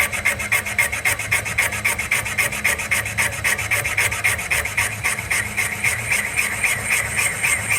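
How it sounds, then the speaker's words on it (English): A valve guide is cut on an old iron small-block Chevy cylinder head, giving a steady, loud, rhythmic rasping and grinding that repeats in quick even strokes throughout, with no voices. "You go easy in the beginning because it is an interrupted cut."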